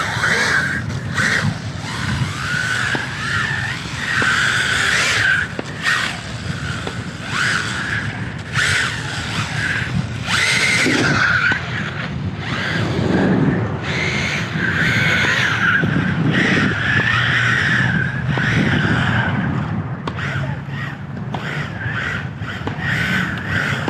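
MJX 14303 Citroën rally RC car skidding its tires on outdoor concrete, a continuous small electric motor whine with repeated scrubbing tire bursts, sustained and fairly close.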